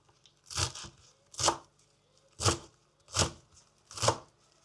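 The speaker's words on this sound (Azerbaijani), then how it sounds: "Keşniş və reyhanları doğrayıram." Fresh coriander and basil are chopped with a knife in five steady, evenly spaced crisp strokes at close range, with no talking.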